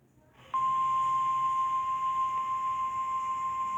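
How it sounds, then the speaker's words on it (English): A steady, loud electronic tone presented as Albania's emergency alert alarm, switching on abruptly and holding one pure pitch with faint higher overtones for several seconds before cutting off. "The first alarm is Albania's alarm."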